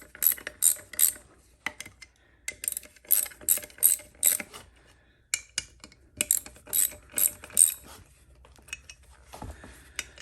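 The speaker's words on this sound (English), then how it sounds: "and then I'm going to tighten these in a cross pattern." A hand ratchet tightens bolts in a cross pattern on a Honda Monkey motorcycle, giving loud, close bursts of rapid metallic clicking separated by short pauses.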